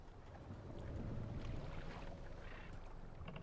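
Oars splash and creak as a longboat is rowed in the video game Assassin's Creed Valhalla, a steady watery wash with wind noise running under it for the whole stretch, no voices.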